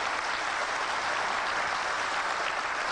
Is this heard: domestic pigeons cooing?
no